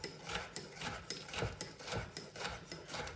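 A knife slices through red pepper on a cutting board in quick, even strokes, a rhythmic rasping scrape about twice a second, close and fairly quiet.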